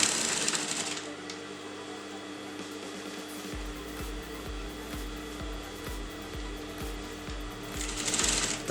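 A sewing machine stitches folded blouse fabric, a steady mechanical whir with rapid regular needle pulses setting in partway through, close and clear with no talking.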